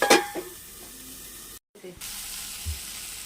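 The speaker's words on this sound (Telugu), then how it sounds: "టొమాటోస్ మెత్తబడేంత వరకు కాస్త మూత పెట్టుకొని ఉడికిస్తున్నాం." Tomatoes simmer under a lid in a pan for a kalimikaya dal, giving a soft, low sizzle. A brief clatter comes at the start, then a short gap before the gentle cooking noise resumes.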